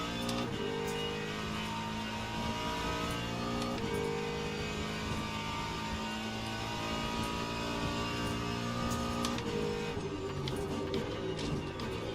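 A GT3 race car engine in the Le Mans Ultimate sim at Sebring drones steadily and loudly, with repeated gear-change shifts in pitch as it revs up and down, no talk over it.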